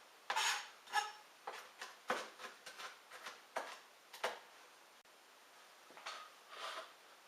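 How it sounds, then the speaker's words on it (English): A knife roughly chopping flaked almonds on a board, heard as a series of sharp, irregular close taps and scraping cuts with short pauses, no talking. "we also add a few heaped tablespoons of flaked almonds, which I like to just chop up first."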